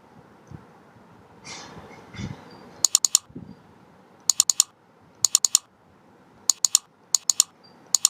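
Someone types on a computer keyboard in short, crisp bursts of rapid keystrokes separated by pauses, after a few soft rustles and breaths at the start.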